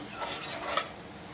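A spoon scraping and clinking against a pot while spices such as coriander-cumin powder, red chilli and salt are stirred into moong dal, a steady close metallic rasp with a few sharper knocks, no talking.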